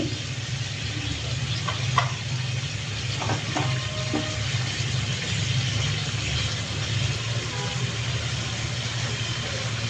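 Egg cooking in a pan for a Bengali-style dim bhuna, giving a steady low sizzle that runs the whole time, with a few faint clicks and scrapes of stirring over it.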